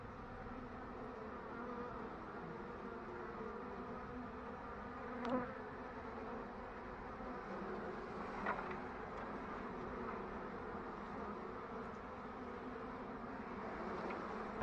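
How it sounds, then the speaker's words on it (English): Dense, continuous buzzing of a honey bee swarm being removed from a wall close by, a steady droning hum with a few louder passes. "So I'm just going to gently gather some bees up"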